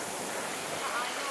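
Indian Ocean surf breaking along a coral-strewn shore in Mauritius, a steady broadband wash of waves mixed with wind buffeting the microphone, filling the whole moment without a pause.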